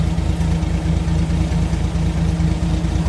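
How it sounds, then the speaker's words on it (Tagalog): A rebuilt Suzuki K6A engine in a DA64W van, running rough and misfiring with low power, its exhaust chugging in an uneven, pulsing low rumble, loud and close, with no talking. "murag nagbuto-buto ang andar sa iyahang exhaust"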